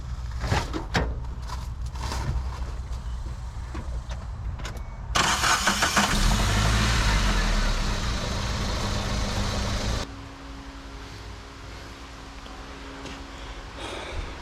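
A Geo Tracker engine cranks and fires up with a loud burst, then settles into a steady, quieter idle, heard up close with no talking.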